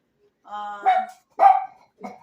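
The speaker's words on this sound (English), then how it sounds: "Every time I turn on the camera, she has to bark." A female dog barks in a home kitchen during cooking, giving a short whine followed by two or three close, sharp barks with brief gaps between them.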